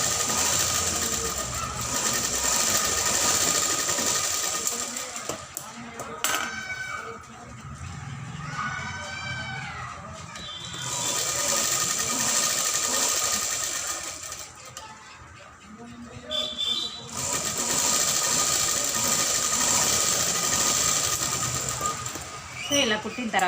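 A sewing machine stitches the neckline of a child's full blouse, running in long steady stretches of loud whirring hum broken by short pauses, with a voice heard over part of it.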